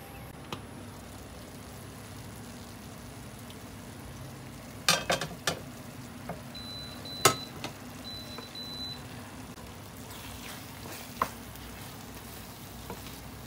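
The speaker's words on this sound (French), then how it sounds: "je vais laisser cuire le riz" Rice simmers in a pot of water for an oven chicken meal, a steady low bubbling hiss broken by a few sharp clicks and knocks of the lid or utensil.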